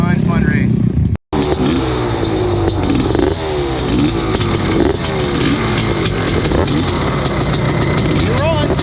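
1989 Honda CR500 two-stroke motocross bikes roar and rev hard in a race, a loud, continuous blare of rising and falling engine notes with clattering, nearby and dense, with a brief dropout early on.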